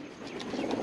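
Racing pigeons arriving at an aviary give soft, near cooing and bird calls against a steady low background, with a few faint chirps across a short stretch.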